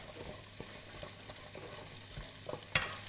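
Ginger, carrots and coriander sautéing in a pan for soup, a soft continuous sizzle with occasional scrapes and stirring clicks, one sharper knock near the end, close and fairly quiet without talk.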